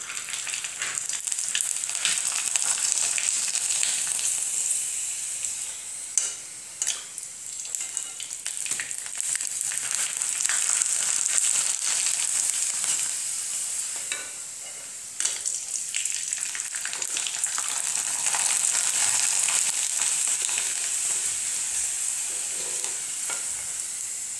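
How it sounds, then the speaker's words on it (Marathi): Sun-dried rice papad strips fry in hot oil with a loud, continuous crackling sizzle that swells and eases in waves, briefly dipping as new pieces go in. "तर आता आपण तळून पाहूयात। सगळ्यात पहिला आपण पट्टी पापड"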